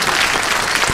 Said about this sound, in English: let's give a quick round of applause to all the great staff and volunteers